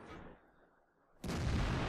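Tank cannon fire in the video game World of Tanks: a fading boom trails off into near silence, then a sudden loud, sustained blast erupts and holds at full strength.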